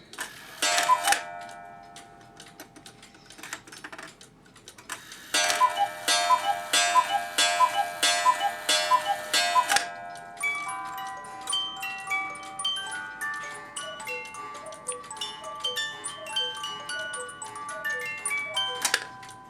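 A tinkling music-box melody plays from a Hubert Herr musical cuckoo clock, with a short chime burst, a pause, then a longer run of bright notes and a steady tune.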